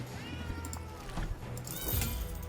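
Cat meowing from the video game Potionomics, several short meows over a busy game background of music and effects, with a low rumble underneath and no talking.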